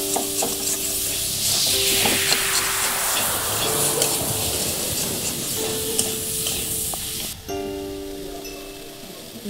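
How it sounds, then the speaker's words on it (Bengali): Chicken meat frying in a pan for a cabbage and chicken dish, a loud sizzle swelling as the meat is stirred and scraped, with clinks of the utensil against the pan. "দেখেন একটু ভাজা ভাজা হয়ে আসছে"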